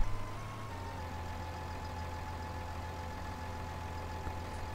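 A Ford tractor engine idling steadily with a low, even hum, close by and unchanging, with no voices over it.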